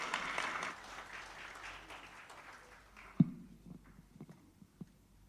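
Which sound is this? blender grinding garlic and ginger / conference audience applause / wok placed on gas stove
conference audience applause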